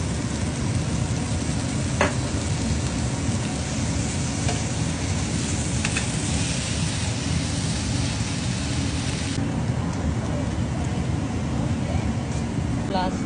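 Fried rice with egg, dark soy sauce and chilli sauces being stir-fried in a pan, giving a steady close sizzle with scraping and stirring noises throughout, plus a few sharp clinks of a utensil.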